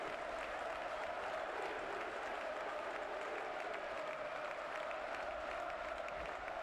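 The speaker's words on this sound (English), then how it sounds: "Supporters back on their feet, cheering their side on." A football crowd at TSV 1860 München versus Viktoria Berlin, a German third-division match, roars and cheers steadily in the stadium, forming a dense, continuous wash of sound with no breaks.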